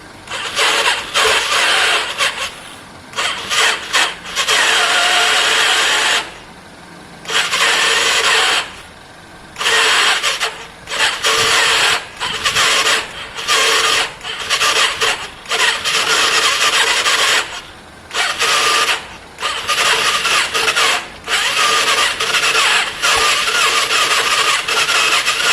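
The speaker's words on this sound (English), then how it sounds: "It's definitely got that starter gear issue." A Yamaha Virago 535 motorcycle with a starter gear fault being cranked over, repeated loud whirring starter bursts broken by short pauses, grinding on without catching into a steady idle.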